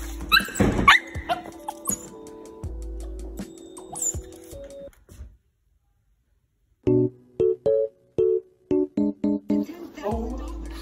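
A dog gives short yips and whimpers in a home setting, a cluster of sounds early on, then a pause, followed by a quick series of clipped, close barks, with no talk.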